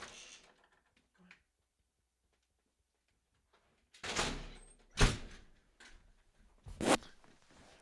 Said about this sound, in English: so I'm gonna go open the window